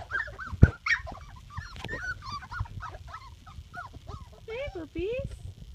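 Puppies yip and whimper in quick high-pitched bursts, close by, with a person talking in between.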